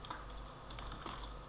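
Quiet, rapid typing on a computer keyboard, a brisk run of soft key clicks heard close and alone over a faint steady hum.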